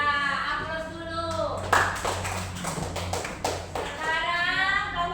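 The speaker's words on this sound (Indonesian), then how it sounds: "Aplaus dulu." Short burst of clapping from a school class group, a few seconds of scattered hand claps over a room hum, with talk heard before and after.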